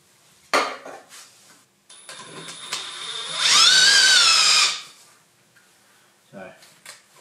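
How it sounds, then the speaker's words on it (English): A VersaDrive ImpactaDie thread repair die spins on a metal bar driven by an impact wrench, a loud rising mechanical whine lasting about a second, framed by metallic clanks and handling knocks before and after. "I'm going to pop that into my impact wrench."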